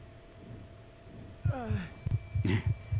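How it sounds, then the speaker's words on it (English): A slow, muffled heartbeat thumps steadily in the Conarium video game, with a low hum underneath and a brief rising whoosh over it. "And a heartbeat."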